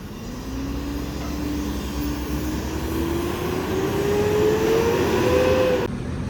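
A premium Jetbus-bodied coach engine hums steadily as the bus moves off to another parking spot, a rising whine building over a low drone, with no voices.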